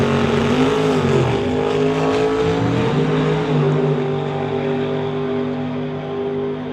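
Drag race cars at Doorwarz 11 Friday testing accelerating down the strip, a loud, continuous engine roar with a pitch that rises and wavers, then eases slightly toward the end.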